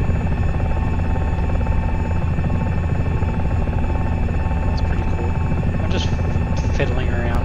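A simulated helicopter flies in a flight simulator game, producing a steady, loud rotor and engine drone with a constant whine on top. A few faint clicks come near the end.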